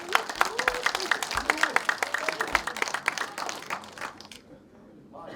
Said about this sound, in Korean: 북구로 찬성하신 박수 한번 주세요.